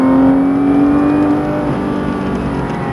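A Porsche 991 GT3 RS on a race circuit accelerates hard from close range, its engine note climbing steadily in a smooth, loud whir with no voices over it.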